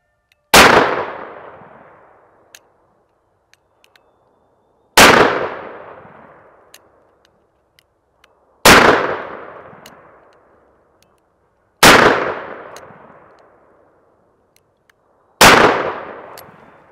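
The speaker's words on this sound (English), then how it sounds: "We'll shoot a group of 5 shots at 7 yards." Five loud gunshots from a Taurus Judge revolver firing 3-inch Magnum Brenneke 1/4-ounce .410 slugs at close range, each a sharp crack with a decaying tail, spaced about three to four seconds apart.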